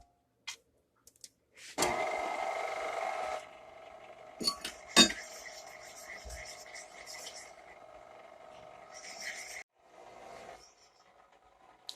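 Flour and salt being mixed by hand in a bowl for homemade bread: a loud scraping clatter at first, then steady scraping and clinking against the bowl for several seconds before it stops.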